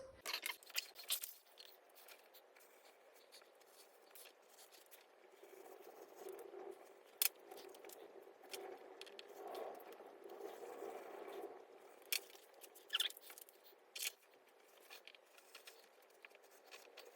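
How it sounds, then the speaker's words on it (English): Quiet, close scissors snipping through fabric while cutting out snap strips and snap loops for a sewing project, soft irregular cuts and rustling with occasional sharper clicks. "So I'm going to cut out the side snap strips and the snap loops, the side snap loops and the main snap strips."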